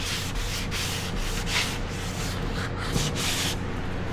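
Rhythmic, raspy strokes of a sanding block scraping back and forth over high build primer, close up and steady, with no talking.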